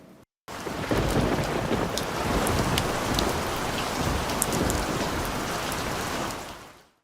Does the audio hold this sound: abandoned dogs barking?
no